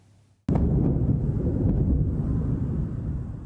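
A sudden deep explosion in Tehran booms out after a brief quiet, followed by a heavy, sustained rumble and roar that slowly fades over several seconds, with no voices.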